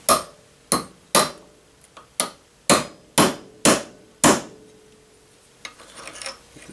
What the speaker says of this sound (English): let's hammer this thing down a little flat.